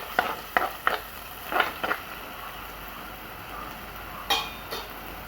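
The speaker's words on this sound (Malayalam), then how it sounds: "ഇനി നമുക്കിതൊന്ന് നന്നായിട്ടൊന്ന് ഇളക്കി കൊടുക്കാം പച്ചമണം പോണ വരെ ഒന്ന് ഇളക്കി കൊടുക്കാം" Ground chili paste with anchovies is stirred in a pan over a soft, low sizzle, with several sharp scrapes and clinks of a spoon against the pan scattered through the clip.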